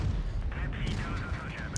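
Tank cannon fire in a World of Tanks style game striking the upper plate of a Czech Vz. 44-1 tank, a dense continuous rumble of gunfire and impacts with no clear break, under quiet talk.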